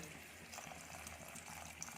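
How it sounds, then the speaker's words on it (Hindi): Water is poured from a glass into a pot of crab and potato curry with taro in a village kitchen, a soft, steady pouring hiss lasting a couple of seconds, faint and alone. "तो ऑलमोस्ट गोटे ग्लास पानी मु एटे देली"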